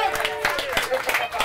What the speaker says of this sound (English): Let's give a round of applause, guys.